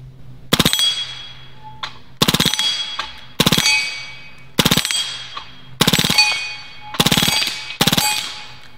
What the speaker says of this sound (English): Let's do like a 3-round burst.